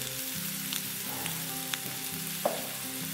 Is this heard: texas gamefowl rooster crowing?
no